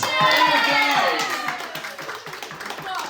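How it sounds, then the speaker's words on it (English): Crowd applause at a Pride Month stand-up comedy show, a rhythmic patter of clapping under a voice and some cheering, swelling briefly and then thinning out. "Please do give us a round of applause."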